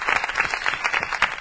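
Brief applause from an audience at an Italian stage performance, a short burst of crowd clapping at moderate level.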